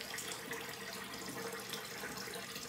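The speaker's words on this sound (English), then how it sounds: "Cold water rinse." Cold tap water runs into a sink for a rinse after a shave, a steady, faint, soft rushing flow with no voices.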